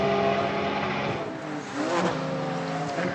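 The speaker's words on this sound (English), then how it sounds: "The car's running very well right now, up into the top 5 in class" GT race car engine at an SRO GT event on a racetrack, a steady loud drone that dips briefly then surges again as the car pulls past, with no talk.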